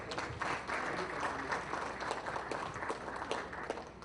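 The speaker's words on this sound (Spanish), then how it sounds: "Pues un aplauso finalmente para los 4 panelistas" An audience at a panel event applauds the four panelists at the close, a dense, even patter of many clapping hands that carries on steadily with a few sharper claps standing out.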